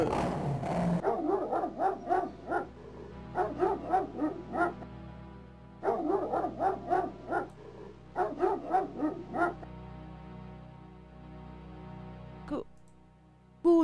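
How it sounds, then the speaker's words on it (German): A dog in the video game King's Quest 7 barks and yips in three quick bursts with short pauses between them, fairly close and clear. "Ja, hier kommt auch der Hund."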